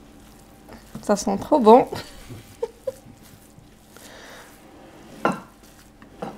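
Tunisian couscous sauce being stirred in a pan, with a few soft utensil scrapes and clinks against the pot, partly under a short burst of nearby talk, then quieter.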